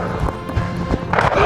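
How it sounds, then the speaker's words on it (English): A horse runs out of a gate at an outdoor shooting challenge, its hoofbeats thudding in a quick irregular rhythm under a noisy outdoor background. "Let the horse out the gate."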